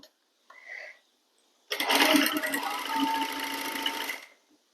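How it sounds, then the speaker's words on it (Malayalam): A sewing machine stitches a kurti, with a short burst of the motor followed by a longer, steady run of rapid whirring stitching, close and clear in a quiet room. "ഇതൊന്ന് തയ്ച്ചെടുക്കാം."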